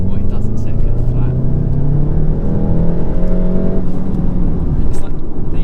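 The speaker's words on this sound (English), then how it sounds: "Let's just see what it does in second flat." VW MK7.5 GTI Performance Pack accelerating flat out in second gear, a loud rising engine drone from inside the car with steady road and wind noise and a voice briefly over it.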